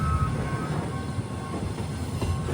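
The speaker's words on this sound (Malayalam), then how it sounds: "ഈ റൂട്ടിലെ പ്രധാനപ്പെട്ട ഒരു സ്ഥലത്തേക്ക് ട്രെയിൻ എത്തുകയാണ്" A KTM Intercity train pulls into Wakaf Bharu station in Malaysia, giving a steady low rumble of rolling wheels and carriages with faint clatter, moderately loud and continuous with no talk.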